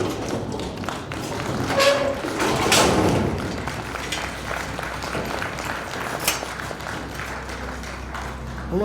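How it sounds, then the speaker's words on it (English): Audience at a beef cattle stockmanship conference applauding, a burst of clapping swelling over the first few seconds and then thinning into scattered claps and light thumps in a large room. "I don't know if y'all applaud because that went well or because it's over"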